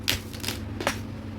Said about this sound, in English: That was bad shuffle.